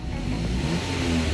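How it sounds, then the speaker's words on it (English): A Mazda 5 GT minivan's engine revs steadily and fairly loud, a mid-pitched hum rising slightly with the throttle, heard close with no talking. "Let's give it a little bit of a rev."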